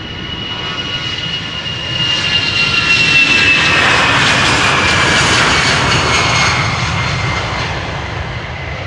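A departing airliner roars down runway 36L, the Polderbaan, at Amsterdam Schiphol, a broad loud engine rumble swelling in the middle and easing toward the end, with a thin high whine riding on top.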